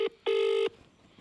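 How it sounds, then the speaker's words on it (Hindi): Phone keypad tones sound as a number is dialed: a short beep, then a longer one, loud and clear, with quiet room background after. "मैं अभी मैडम को मैं फोन लगाता हूँ"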